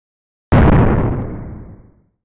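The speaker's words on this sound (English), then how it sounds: "Gunshots." A single loud, sharp shotgun-like blast at a heavily secured political event in the United States, rising abruptly and then fading over about a second and a half of echo.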